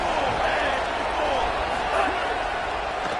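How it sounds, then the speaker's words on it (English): A packed stadium crowd at a UCLA football playoff game roars in a dense, unbroken wall of noise, loud and sustained, with a commentator talking over it. "And here comes the noise. This crowd is trying to inspire this defense to make a big red zone stop."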